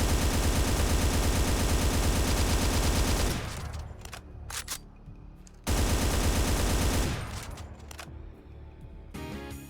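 Assault rifle in Brutal Doom Platinum fires in two loud sustained bursts, each cut off and followed by quieter clicking and mechanical clatter of a partial or empty reload.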